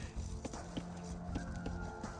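A scout horse's hooves in Age of Empires 2: Definitive Edition, quiet irregular clip-clop steps over game ambience and faint tones.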